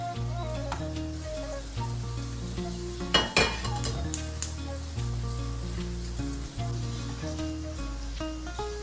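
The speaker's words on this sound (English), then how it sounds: "I went for shallow frying this time" Steady sizzling of chicken shallow frying in a pan, with occasional stirring and utensil clinks, close and continuous throughout.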